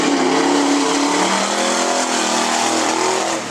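A modified race car roars past on a lap at Cottage Grove Speedway during the Modified Nationals, its loud engine howl sustained and shifting in pitch as it speeds around the track.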